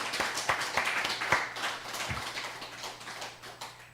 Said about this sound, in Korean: 그래, 박수, 박수.